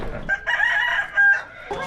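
Chickens and a rooster at an animal shelter evacuated because of a fire: a close, strained crow with clucking around it, loud over faint background noise.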